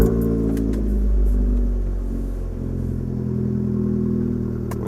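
A Fiat 500 Abarth engine catches and settles into a loud, steady idle with a deep rumble, close by and alone.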